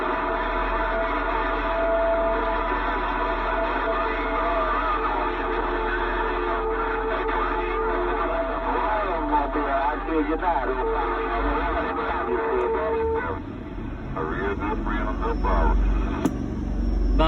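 CB radio transmissions from a mobile rig with two or three stations keying up at once, producing a continuous, distorted and echoing jumble of overlapping voices and carrier noise that breaks up and shifts near the end.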